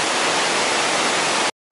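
Water rushes from a small river waterfall after heavy rain, a steady, loud broadband roar heard close up, cutting off abruptly.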